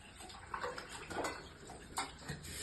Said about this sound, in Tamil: மஞ்சள் தூள் போட்டு மட்டனை கழுவியாச்சு